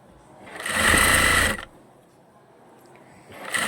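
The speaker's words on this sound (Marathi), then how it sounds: "बाहीवर नेहमी दाब टीप टाकायची जेणेकरून अस्तरचा कपडा बाहेर येत नाही" A sewing machine stitches the sleeve of a lined blouse in one close, loud burst of about a second of rapid whirring, then stops, with quiet room tone after and the motor starting again at the end.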